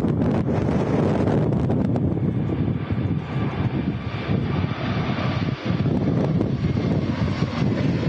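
Continuous roar of a Turkish Airlines Airbus A321 engine on the runway at Manchester Airport during a storm, steady and fairly loud, mixed with heavy wind buffeting the microphone.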